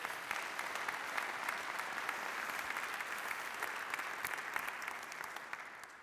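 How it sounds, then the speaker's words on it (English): An audience at a talk in St. Paul claps in sustained, dense applause that holds steady for several seconds before easing slightly at the end. "I want a round of applause."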